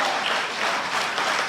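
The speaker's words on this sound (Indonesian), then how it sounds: "Beri tepuk tangan dulu untuk Tuhan kita." A congregation applauds during a Sunday worship service, a dense, steady wash of many hands clapping at once, loud and filling the space, with no distinct voices.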